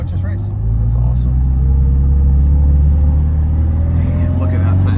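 A turbocharged car engine rumbles loud and close, its note climbing steadily as the revs build.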